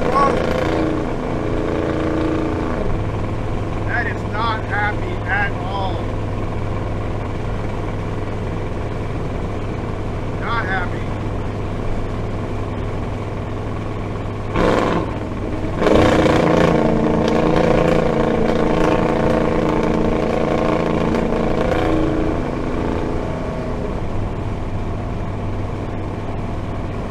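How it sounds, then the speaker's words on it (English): A car fitted with a Holley Sniper EFI is driven under full throttle, its engine holding a steady loud drone with a shift in tone midway as the pitch rises and settles, heard from inside the vehicle. "It did not want to get above like 75 miles an hour under full throttle."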